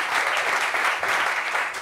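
A studio audience claps for a guest on a French talk show, a dense, loud, continuous burst of applause with no voices over it.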